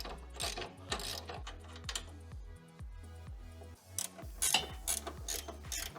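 A ratchet spins a 17mm nut off a sway bar end link on a Subaru BRZ during a coilover install, a close, steady run of rapid clicking pawl strokes repeating in quick bursts with a few louder clanks near the end.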